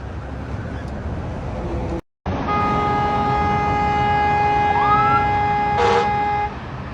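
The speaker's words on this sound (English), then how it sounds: "There's a fire truck." A fire truck siren wails steadily outdoors at a car fire in the rain, a sustained tonal whine with a brief dropout near the start and a short horn-like blast toward the end, moderately loud and unaccompanied by speech.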